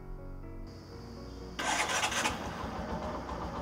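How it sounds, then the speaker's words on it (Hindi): A low idle hum gives way to a 2024 Bajaj Platina 110 motorcycle engine catching and firing up, settling into a steady, fairly quiet running note. "आइए बाइक को स्टार्ट कर लेते हैं। इंजन साउंड सुन लेते हैं,"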